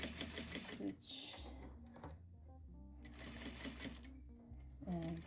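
Sewing machine stitching a zippered pouch, running in short bursts with pauses and backstitching, close and fairly loud, with a person talking over and between the stitching.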